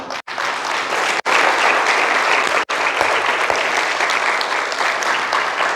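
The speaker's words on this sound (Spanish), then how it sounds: "Vamos a darle un aplauso al Señor." Sustained applause from a church congregation, loud and steady for several seconds, with a few brief drops in the clapping.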